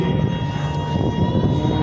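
An aerobatic airplane flies at an air show in Košice, a steady loud engine drone with a sustained tone that holds evenly, without talk.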